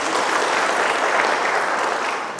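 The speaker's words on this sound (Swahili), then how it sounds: "jipigeni makofi mengi sana." Dense, loud applause from an audience of women at a CRDB loan training meeting in Mbulu, even clapping filling the whole stretch and tapering slightly at the end.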